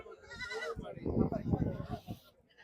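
A goat bleats at a livestock market (bakra mandi), wavering cries close to the microphone over steady traders' chatter and bargaining voices.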